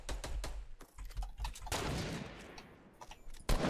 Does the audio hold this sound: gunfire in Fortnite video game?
yes